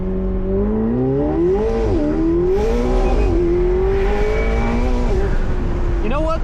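McLaren 750S accelerating hard from a launch on a hilly road, engine note rising through the gears with cold tires briefly spinning, loud and close from inside the car, with a voice exclaiming over it.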